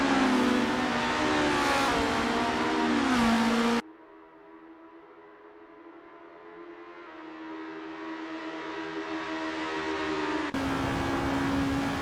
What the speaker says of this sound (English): The rubber's burning, the crowd's yearning, and Roel Postma's engine is churning to get past Hugh Jass.